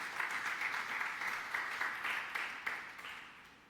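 A church congregation at a French-language prophetic sermon applauds steadily and fairly loudly for several seconds, with many hands clapping in a dense, continuous wash and no voices over it.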